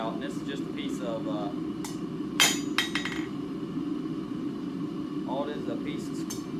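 A hammer strikes round bar stock on the edge of an anvil while it is tapered during forging, giving a couple of sharp ringing metallic blows over a steady background hum, with a person talking across it.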